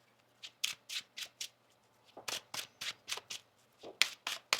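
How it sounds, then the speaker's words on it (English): Tarot cards being shuffled by hand during a reading, a quiet series of crisp riffling bursts, about a dozen short snaps in an uneven rhythm, close and with no talk. "One more shuffle."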